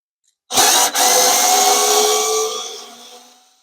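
A Ryobi FVD51K right-angle screwdriver drives a screw in a tight space, giving one loud, steady motor whir of about three seconds with a brief dip near the start, then tapering off as the screw seats.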